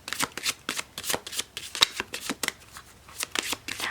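Magical Times Empowerment oracle cards are shuffled close up in quick, repeated riffles and slaps with a brisk, uneven rhythm, alone.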